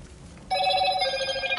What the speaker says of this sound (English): Now the damn phone's going again.